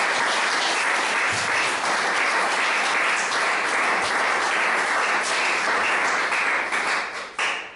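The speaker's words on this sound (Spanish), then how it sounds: "Denle un aplauso al Señor, amén." A church congregation applauding together, a dense, loud and continuous wash of clapping that holds steady for several seconds before trailing off.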